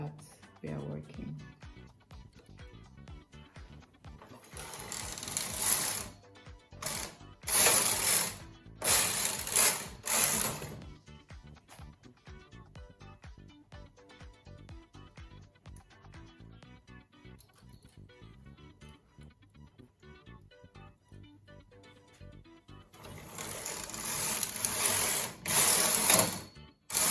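A Brother KH930 knitting machine carriage sweeps back and forth knitting a patterned scarf, giving loud bursts of rattling, clicking passes separated by quieter mechanical ticking.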